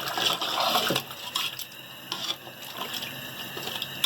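Water pours into a cooking pot of haleem meat stew, a steady splashing stream that is loudest in the first second and then settles into softer, intermittent trickling, with no voices.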